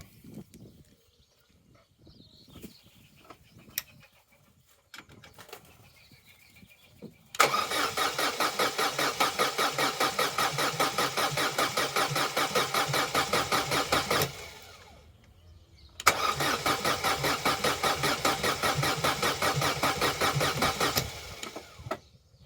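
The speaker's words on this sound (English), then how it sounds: "I'd say that's a good crank over. Maybe a little sluggish, but I'd say that's cranking at good speed" A Vauxhall Corsa B engine cranks over on the starter in two long, steady bursts of rhythmic whirring, each lasting several seconds with a brief pause between. The cranking is close and loud, with quieter handling noises before it starts.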